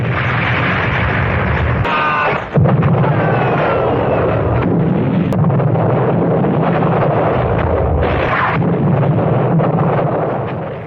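An explosion in an action film about a gold-mining escape, heard as a loud, sustained, rumbling roar of blast noise with a brief sharp break partway through, filling the whole stretch before fading at the end.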